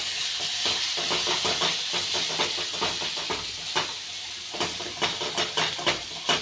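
Onions or masala sautéing with turmeric and coriander powder for a spicy Maharashtrian ridge gourd bhaji, a steady hiss with repeated scraping stir strokes growing sharper toward the end, close and alone.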